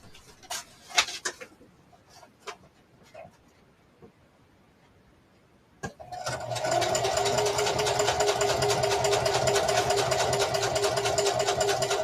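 Sewing machine stitching pages of a patriotic junk journal, starting after a few scattered clicks and handling sounds, then running steadily and loudly for the last several seconds with a continuous mechanical whir.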